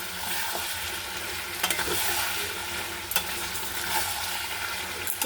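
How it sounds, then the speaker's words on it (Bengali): Chicken kosha in an uncovered pot gives off a dense, steady frying hiss, broken by a few sharp scrapes and knocks of a spoon stirring; nobody talks. "এবার একটু নেড়ে নেব ভালো করে।"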